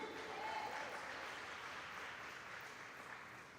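Church congregation applauding during a sermon, a dense, continuous wash of clapping that holds steady and slowly fades slightly, heard from a moderate distance with no clear individual claps.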